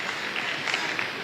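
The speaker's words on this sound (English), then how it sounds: "Please clap again." Audience applause fills a speaking event, a dense, steady patter of many hands clapping at moderate volume for about a second, with faint voices mixed in.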